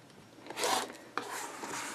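Rotary or blade cutter slices through quilting fabric on a cutting mat for 3.5-inch squares, two short close scraping strokes, faint and quiet with no speech.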